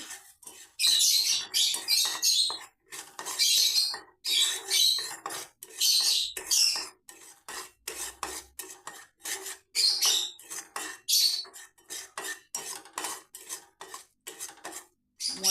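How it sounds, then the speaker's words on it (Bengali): Two spoonfuls of flour being roasted until reddish in a pan for ripe papaya halwa, stirred with a metal spoon in a steady run of close, sharp scraping strokes against the pan, with no voices. "দুই চামচ ময়দা দিয়ে দিলাম ময়দাটা একটু আমি লাল করে নিচ্ছি"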